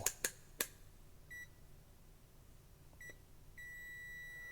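A multimeter in continuity test mode gives short electronic beeps after a few sharp clicks, first brief chirps and then a longer sustained tone near the end, in a quiet room.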